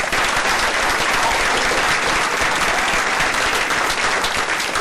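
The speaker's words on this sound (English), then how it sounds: "Please round of applause for Gilbert." Steady, loud applause from an audience at a Hispanic Scholarship Alliance event, dense clapping that continues evenly throughout with no break.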